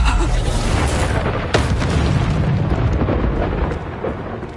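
A Reducto spell blast in the video game Hogwarts Legacy booms loud and heavy, with a sharp crack early on and a rumbling roar that fills the whole stretch.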